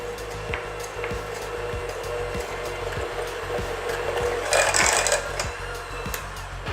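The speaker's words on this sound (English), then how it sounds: "After I beat with a mixer" Electric hand mixer beating chocolate frosting made with powdered sugar in a bowl, a steady whirring motor drone with regular rhythmic knocks as the beaters hit the bowl, growing a little louder near the end.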